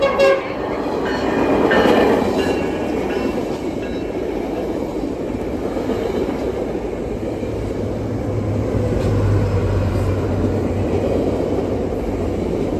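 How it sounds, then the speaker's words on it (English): A double-header train rumbles steadily past a station platform in Fullerton without stopping, a low engine drone and clattering wheels with a sustained horn-like tone; no voices. "Double-header train."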